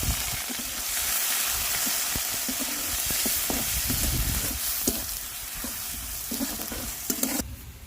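Chopped onions sizzle and fry in hot oil in a kadai, a continuous bright hiss broken by repeated scraping and clinking strokes of a stirring spoon, close and steady with no voices.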